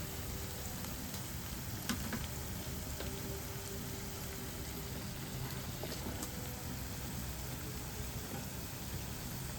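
Beef frying in a pan with masala spices such as chili powder, coriander powder and meat masala: a steady, close, continuous sizzle lasting throughout, with faint scrapes of stirring and no talking.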